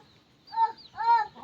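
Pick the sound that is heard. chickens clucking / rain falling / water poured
chickens clucking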